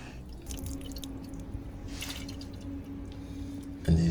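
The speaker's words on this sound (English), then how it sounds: "Just a matter of tipping all this out, all the water and whatever's in there." Water and leftover soapy residue tipped out of the float chamber of a Mountfield Briggs & Stratton lawnmower carburettor, a steady close trickle of dripping and splashing liquid lasting several seconds, ending with a louder clunk.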